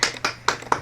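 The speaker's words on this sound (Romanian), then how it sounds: "Aplaude." Four separate hand claps, evenly spaced at moderate loudness, sounded during a festive Christmas Eve gaming stream, each a sharp broadband burst with no talk over it.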